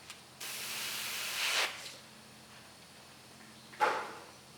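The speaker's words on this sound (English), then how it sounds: "So I'm going to use the airbrush to begin with." Airbrush spraying paint onto a black widow spider model, giving a steady airy hiss for over a second, a pause, then a second short burst, close up with no talking.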